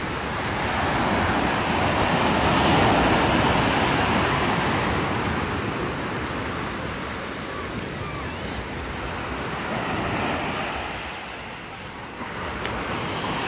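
Waves roll in near a boat, a broad rushing surge that swells loudest early, eases, then builds again with wind noise over the microphone.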